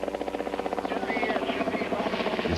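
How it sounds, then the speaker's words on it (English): A rescue helicopter comes up over a hill, its rotor giving a steady rhythmic thumping chop with a buzzing whine, moderately loud and drawing nearer. "Then you could hear the chopper coming up over the hill."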